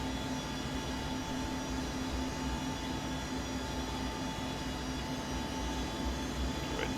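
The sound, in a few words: ERJ 145 jet aircraft taking off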